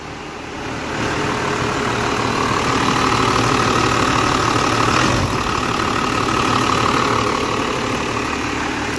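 A 12 valve Cummins diesel in a dually truck, fitted with a ported head, idles in a loud, steady rumble that swells slightly after the first second and holds even and close throughout, with no voices.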